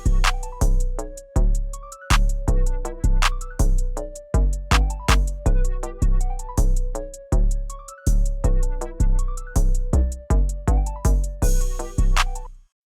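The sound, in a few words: trap beat drum pattern played back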